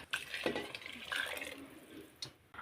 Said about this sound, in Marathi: आता हे चांगले मिक्स करून यामध्ये गरम पाणी घालून घेऊया